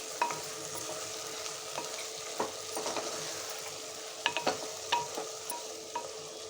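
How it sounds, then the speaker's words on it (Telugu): Drumstick curry simmers and sizzles steadily in a pan while a spoon stirs through it after salt is added, with scattered soft scrapes and taps over the continuous frying hiss. "ఇక ఉప్పు బిడ్డ వేసుకొని ఇట్లా కలిపేసుకొని"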